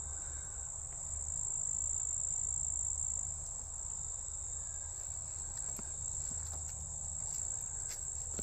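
Crickets and other insects trill steadily in a wildflower field of goldenrod at a state park reserve, a constant high, faint drone with no talking.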